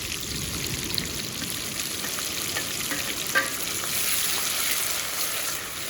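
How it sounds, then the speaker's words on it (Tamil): Onions, green chili and tomato frying in a pan for a dry fish curry, a steady close sizzle with a few faint clinks of stirring, no voices. "வெங்காயம் நல்லா வதங்கிட்டுங்க பாருங்க பச்சை மிளகா சேர்த்துருவோம் அப்படியே தக்காளி சேர்த்துருவோம்"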